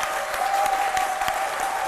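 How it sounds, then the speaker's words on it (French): Dense, steady audience applause for an engineering school group at a live broadcast event, loud and continuous throughout with a faint tonal hum running underneath. "Je voudrais qu'on puisse applaudir pour le groupe école ingénieur"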